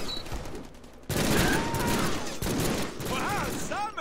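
Cable's gun in a Deadpool video game fires dense, continuous bursts of automatic gunfire that run for several seconds, loud and close, with brief pauses and whooshing game effects layered on top.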